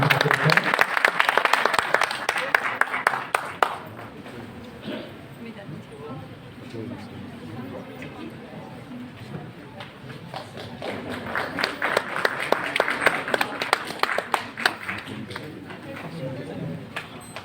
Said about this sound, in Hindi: तालियों की गड़गड़ाहट से श्री वेदमणि सिंह ठाकुर सर।